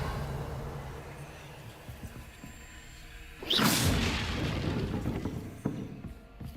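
A Revelio spell is cast in Hogwarts Legacy, and a sudden loud whooshing burst swells up after a few quiet seconds. The burst fades gradually, with a small thump near the end.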